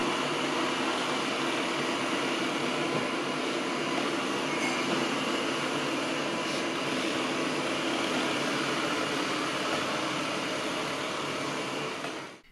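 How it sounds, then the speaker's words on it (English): A steady, loud whooshing motor hum with a broad airy roar runs unbroken from an Ecovacs Deebot N8+ robot vacuum at high suction, then cuts off at the end. "if we increase the vacuum power, the noise also increases with it,"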